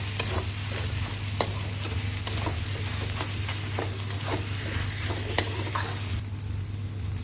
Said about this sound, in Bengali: এখন ভালো করে এটাকে ভেজে নেব।